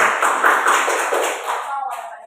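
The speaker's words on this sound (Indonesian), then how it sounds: "Beri aplaus dulu kepada Cahyo" A classroom group gives applause for a student named Cahyo during a micro-teaching session, a brief, close burst of dense clapping that fades away within a couple of seconds.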